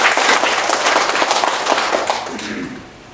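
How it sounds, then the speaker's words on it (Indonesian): Indoor audience at a NasDem party inauguration in Merauke giving a burst of clapping, dense and loud for about two seconds before thinning and fading out. "Kita tepuk tangan dulu."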